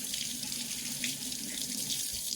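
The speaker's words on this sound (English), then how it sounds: "Rinse my hands again." Water runs steadily from a kitchen tap while hands are rinsed under it, a constant close splashing rush that carries on alone from start to finish.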